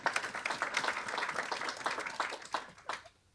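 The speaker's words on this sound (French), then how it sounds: "Si vous pouvez les applaudir" A French-speaking event audience claps for the speakers, a dense burst of many hands with distinct sharp claps that carries on steadily before stopping abruptly near the end.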